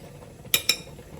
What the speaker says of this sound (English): So I'm just going to mix this up with a fork